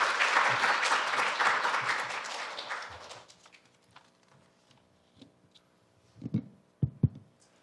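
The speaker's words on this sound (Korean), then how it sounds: "박수로 맞이해 주시기 바랍니다." Audience applause fills a conference hall at the Korea University KU AI Forum as a program director is welcomed to give opening remarks. It is dense and steady for about three seconds, then fades to a few scattered claps and faint thumps.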